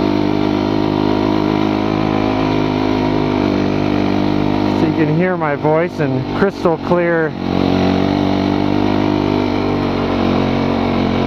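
An old four-stroke snowbike engine idles with a loud, steady, burbling drone, and someone speaks briefly over it partway through.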